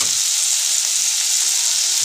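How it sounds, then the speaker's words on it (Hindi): Onion-tomato masala with cashews frying steadily in a kadai for kadai paneer, a continuous bright sizzle holding at an even level throughout, close up, with no talking. "इसको थोड़ी देर के लिए और भून लेंगे"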